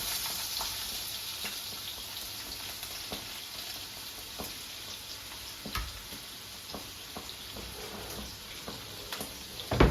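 Onions frying in oil for biryani, a moderate, even sizzle with scattered crackles and a few light stirring knocks near the end.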